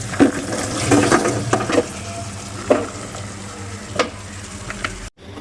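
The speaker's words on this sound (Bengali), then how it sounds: "আপনি ভালো করে নাড়াচাড়া দিয়ে নেবেন যাতে সবগুলো সবজির সাথে এই পেঁয়াজ এবং মশলাটা মিশে যায়" Vegetables frying in a pan with onion and spices, a steady sizzle broken by a few scraping stirs and utensil knocks, close and fairly loud, then a sudden drop to near silence at the end.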